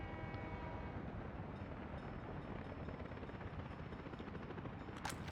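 Passenger train pulling into a station in the Workers & Resources city-building game, a steady low rumbling roll with continuous rail noise throughout and a brief higher squeal near the end.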